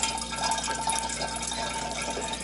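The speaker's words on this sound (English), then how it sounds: "just put the water through your water filter" Water runs steadily through a drinking-water filter, a continuous close trickle and splash that stays at an even level with no speech.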